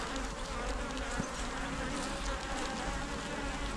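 Honey bees swarm around an open hive during an inspection, a dense, steady buzzing that fills the air at close range, with no speech.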